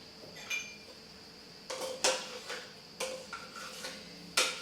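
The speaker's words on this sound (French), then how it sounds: "Je récupère le fond avec ma cuillère pour éviter l'éperdition" A spoon scrapes and taps against a bowl holding homemade dish soap gel, giving several short, sharp clinks and scrapes at irregular intervals, close and fairly loud.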